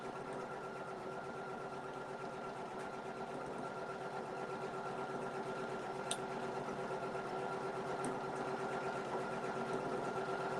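An embroidery sewing machine stitches out a dense cat patch with a continuous, even mechanical hum and rapid needle ticking, steady and close throughout with no pauses and no talk.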